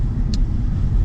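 A BMW E46 on a test drive, its engine a steady low rumble heard from inside the car, with a brief faint click partway through.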